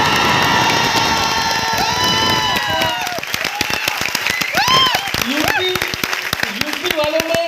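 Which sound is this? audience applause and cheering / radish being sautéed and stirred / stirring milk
audience applause and cheering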